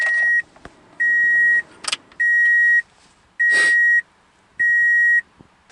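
With the ignition switched on in a car at about 100k miles, a loud electronic chime beeps five times at an even pace, with a couple of brief clicks and bursts of noise between the tones.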